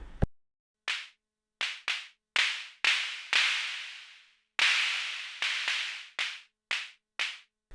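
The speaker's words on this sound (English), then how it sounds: "The color adds here a clap." Analog snare hits from an Arturia DrumBrute Impact drum machine with the colour setting adding a clap character, a dozen sharp, bright, noisy strikes in an uneven pattern, each with a short decaying tail, loud and close, no voices.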